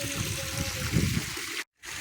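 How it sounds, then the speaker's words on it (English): A garden hose runs water into a backyard pond, giving a steady close-up trickling, gurgling flow that cuts out briefly near the end and then resumes. "So now I'm just topping up with the hose."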